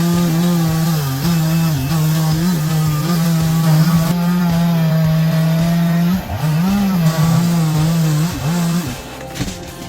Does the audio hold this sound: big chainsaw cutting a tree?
yes